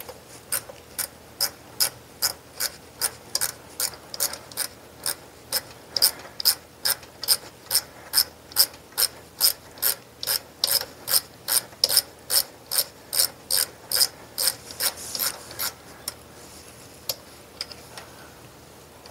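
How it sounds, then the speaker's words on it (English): A speed wrench ratchets as it tightens a nut on a Brunswick A2 pinsetter gearbox clutch, clicking in a steady, evenly spaced rhythm of about thirty sharp ticks before stopping, close and clear. "Tighten that nut down with a speed wrench."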